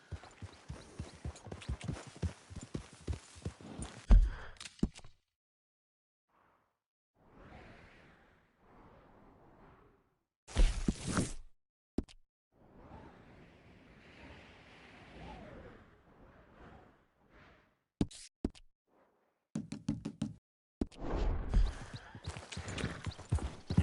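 Horse hooves clip-clop in bursts separated by silent gaps in the Red Dead Redemption 2 video game, with whooshing and some faint game sounds between the hoofbeat passages; no talking.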